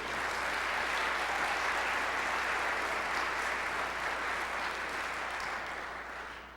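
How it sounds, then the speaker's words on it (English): A concert audience at a marching band show applauds veterans with steady, dense clapping that holds loud and even for several seconds before beginning to taper. "I'd like to give just another big round of applause to all of our veterans here tonight"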